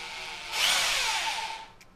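Bosch power drill with its trigger squeezed, motor revving up into a steady close whine for around a second before easing off, heard alone without speech.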